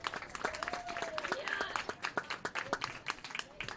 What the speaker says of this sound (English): If we could, give them a big hand of applause.